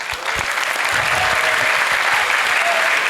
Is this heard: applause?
yes